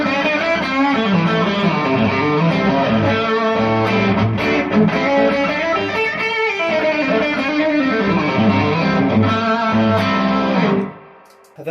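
Electric guitar played through a low gain drive pedal for lead tones, a steady, loud run of sustained harmonic notes that fades out abruptly at the end.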